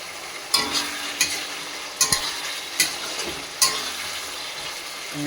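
Katla fish curry masala frying and being stirred in hot oil, a steady sizzle broken by several sharp scraping strokes of the spoon at irregular intervals, close and clear with no talking.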